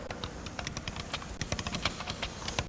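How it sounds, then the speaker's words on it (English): Rapid, uneven keystrokes on a computer keyboard as text is entered into Omni Professional, a Windows 3.1 application running under OS/2 2.0 on a 1992 PC, sounding close and clear over a faint steady hum with no talking. "Let's type into Omni Professional."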